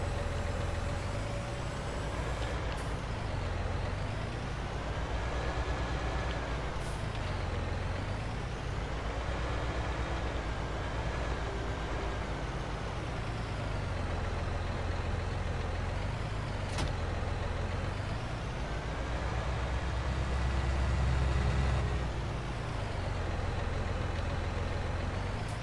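A tractor engine runs in the farming game Farming Simulator 19, a steady low droning hum that rises and falls gently in pitch over a long stretch, continuous and even with no talk.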